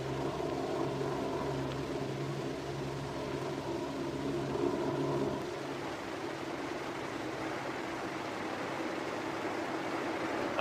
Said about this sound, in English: Bombs are dropped, and the airplane starts home.